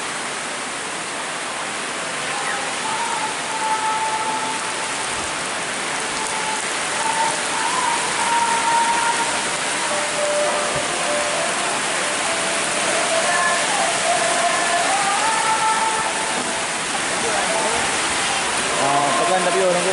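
Steady rain falling outdoors, a dense even hiss of drops on surfaces, fairly loud and continuous, with faint scattered voices in the background.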